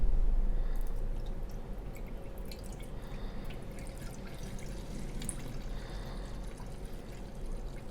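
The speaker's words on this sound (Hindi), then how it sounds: "अब सबसे पहले हम इसके अंदर लिक्विड डालें।" Cleaning liquid pours steadily into the tank of a ThinkCar GDI200 ultrasonic injector cleaning machine, a soft continuous liquid trickle with faint drips, strongest at the start and settling to a low steady flow.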